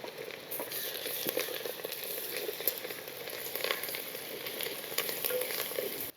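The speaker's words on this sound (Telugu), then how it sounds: "కొంచెం కరివేపాకు, ఒక 2 చెంచాలు అల్లం వెల్లుల్లి పేస్ట్ వేసుకొని పచ్చివాసన పోయేదాకా వేయించుకోవాలి." Curry leaves and ginger garlic paste fry in a pan with a steady, dense sizzle and crackle, close and continuous throughout with occasional sharper pops.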